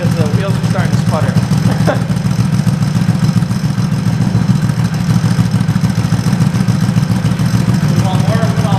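A Yamaha G1 golf cart engine running low on fuel keeps up a loud, close, rapid pulsing putter with a slightly uneven beat, while voices talk over it.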